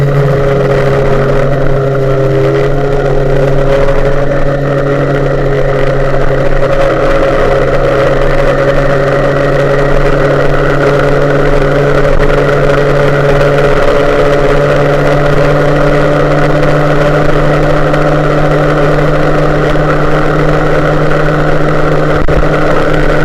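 MBK 51 moped engine with a clutch pulley and 13.6-gram variator weights runs steadily for a long stretch, a loud continuous buzzing drone with a slight pitch rise near the start.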